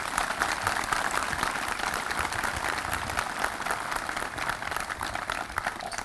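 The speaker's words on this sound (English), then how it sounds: "please give them a round of applause" Broad, steady applause from an audience in a hall honoring a military color guard, sustained crowd clapping for about six seconds with no voices over it.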